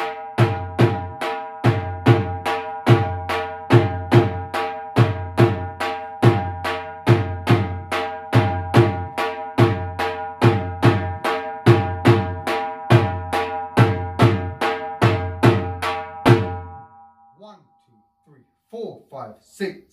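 A dhol drum beats a steady, bouncing chaal rhythm of strong bass strokes and sharper slaps for about seventeen seconds, then stops, leaving brief faint sounds.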